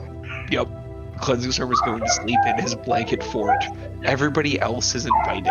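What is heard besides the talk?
dogs barking in the background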